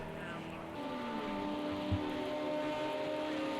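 Rain in a racing video game at Silverstone, a steady soft hiss spread evenly across the whole stretch with a low engine drone humming beneath it.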